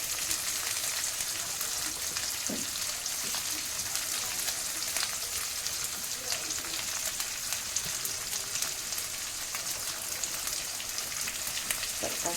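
Bell pepper and onion fry in a pan for chana masala, a continuous soft crackling sizzle like light rain, steady and close with occasional faint stirring and no voices.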